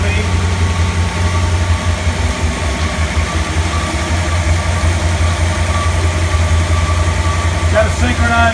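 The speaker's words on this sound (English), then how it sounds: "Ignition on. Starts right up, sounds real clean." Dual quad carburetor engine idling steadily just after starting, a loud continuous rumble close by, with a person talking over it.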